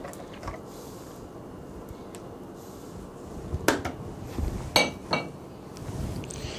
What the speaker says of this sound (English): Give a little scrape.